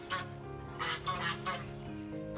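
Ducks call near the back of a backyard chicken coop at breakfast time, giving a few nasal honking quacks in short bursts over a soft outdoor background.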